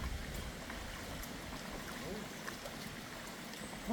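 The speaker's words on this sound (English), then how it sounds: "It's just the sound of the rivers." A river flowing in the Lake District countryside, a steady faint broadband rush of water with occasional small splashes, continuous and distant without talk.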